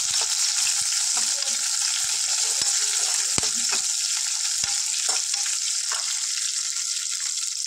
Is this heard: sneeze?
no